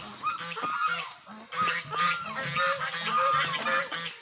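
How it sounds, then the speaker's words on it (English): Geese on a muddy, rain-soaked farm honk repeatedly, their loud, close calls overlapping in an irregular, busy chorus with short pauses, and no talking. "And the geese."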